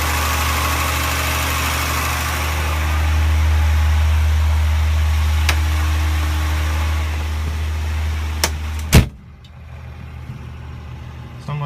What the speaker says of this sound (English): So right now I do have it on high idle, just with the choke one running inside the garage.